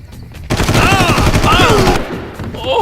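Machine gun fire in Far Cry, a dense rapid burst of close, loud shots lasting over a second, with a German-speaking voice over the gunfire.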